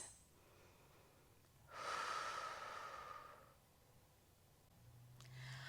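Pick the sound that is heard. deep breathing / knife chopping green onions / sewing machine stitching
deep breathing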